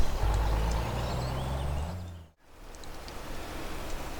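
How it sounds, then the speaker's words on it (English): A semi truck in Farming Simulator 22 rumbles with a low engine drone and a brief rising whine, then cuts out sharply before the hum resumes, steady and fairly loud. "Then the semi truck is going to follow it"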